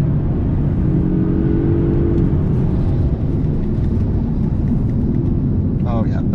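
A Polestar 1 hybrid car accelerating hard on the road, electric motors pulling first before the four-cylinder engine catches up, giving a steady loud drone and rising whir throughout, with a driver talking over it.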